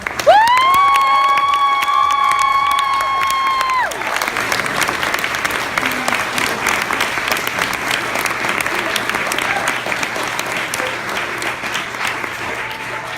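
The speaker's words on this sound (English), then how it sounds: "So I just wanted everyone to clap for all of the teams of Franklin mock trial." A banquet crowd applauds mock trial teams with loud, sustained clapping and some cheering. A long sustained tone plays at the start before the applause carries on alone.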